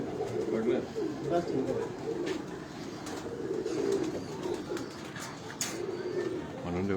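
Paired pigeons of the Qurban line coo in their separate boxes in a rooftop loft in Lahore, a continuous low cooing close by while someone talks.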